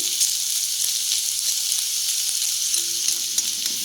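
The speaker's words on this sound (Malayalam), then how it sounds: "അതേ എണ്ണ തന്നെയാണ് ഇതിൽ തന്നെ നമ്മൾ ഉരുളക്കിഴങ്ങും ചെയ്തെടുക്കാൻ പോകുന്നത് നന്നായിട്ട് ഇളക്കി" Potatoes fry in hot oil that was already used for onions, while they are stirred. A steady, close, bright sizzle runs throughout with faint soft stirring movements underneath, and no talking.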